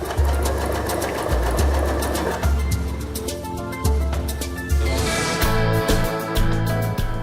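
Janome Skyline S5 sewing machine zigzag-stitching a four-hole button, its motor humming loudly in rapid repeating bursts with short pauses between runs, close and steady.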